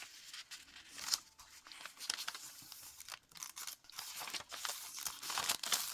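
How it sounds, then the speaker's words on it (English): Blank paper pages in a mini junk journal rustle, flip and crinkle up close, a soft run of crisp papery snaps and brushes with no talking. "I love the sound of this paper. It just sounds great."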